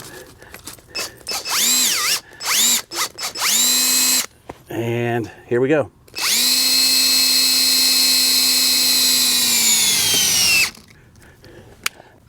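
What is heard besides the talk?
cordless drill with adapter cranking Maxchock RV wheel chock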